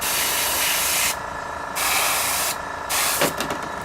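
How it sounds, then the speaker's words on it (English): A small airbrush air compressor runs with a steady, close hiss of spraying air that cuts in and out in short bursts, alongside faint clicks and handling noises. "My little compressor just kicked on"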